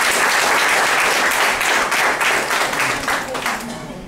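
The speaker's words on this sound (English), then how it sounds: "have a big round of applause for our guests?" Audience applause at an evening gathering honouring guests, a dense sustained round of clapping from many hands that gradually thins toward the end, with some voices mixed in.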